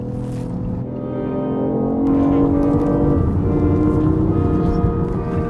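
A BMW i8 sports car in sport mode accelerating across an empty parking lot, its engine note climbing in a steady, droning tone that swells louder partway through and holds, heard from inside the car.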